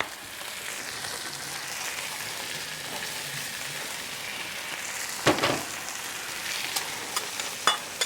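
Potatoes sizzle on a Blackstone griddle in a steady, moderate crackle, with a couple of brief louder clatters partway through.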